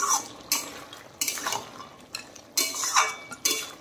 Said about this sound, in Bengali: আর একটু দেখেন নেড়ে দিচ্ছি।